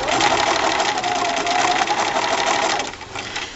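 A sewing machine stitches an elastic casing on a miniature-scale skirt, running steadily with a rapid whirring chatter at close range before easing off briefly near the end.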